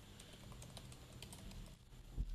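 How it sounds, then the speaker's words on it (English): Rapid keystrokes on a computer keyboard while text is entered into a web contact form, a steady run of light clicks ending in a heavier thump near the end, close and fairly quiet with no talking. "So here I'll just type Michael."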